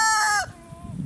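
A rooster's crow rings out loud and close, a harmonic call that breaks off, followed by faint clucking and background rustle.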